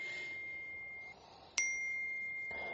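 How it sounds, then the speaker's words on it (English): In a BBC radio drama, a mobile phone gives a short bright electronic notification chime, clear and close, over a quiet room tone with a steady faint electronic whine. "What is that? It was. It's my phone."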